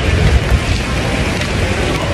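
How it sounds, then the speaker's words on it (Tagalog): Heavy rain pours down at Festival Mall in Alabang, a dense, steady roar of downpour that stays loud and constant with no talking. "Grabe ang lakas ng ulan."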